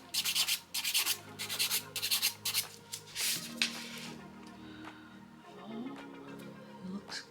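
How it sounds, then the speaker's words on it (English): A nail file scrapes across polygel nail tips in quick repeated strokes, close and soft, coming in short rhythmic bursts that thin out toward the end, with a faint voice murmuring underneath. "I'm just filing the end or the tips of them"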